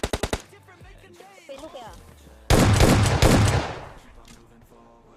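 Automatic M762 rifle fire in a video game, a short rapid burst at the start followed by a loud sustained volley, with someone speaking Hindi over it.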